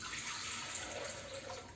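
Roughly 600 ml of water poured into a Thermomix TM5 mixing bowl, a quiet, steady splashing trickle for a couple of seconds.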